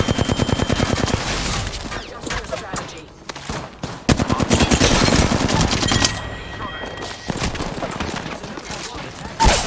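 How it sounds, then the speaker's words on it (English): Enemies firing guns in the battle royale video game Apex Legends: rapid automatic bursts and single cracks stutter throughout, loud and close, with a voice speaking over parts of the fire. "The enemies are shooting at me."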